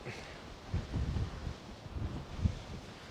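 Gusting wind on open Dartmoor moorland at a wild camp, buffeting the microphone in uneven low-pitched bursts, with no voices.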